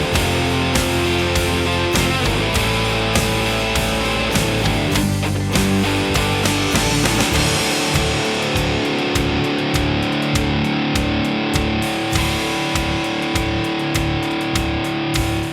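A PJD York Standard electric guitar with maple neck played through heavy distortion alongside a backing band track, thick sustained chords giving way to tight rhythmic chugging, loud and continuous.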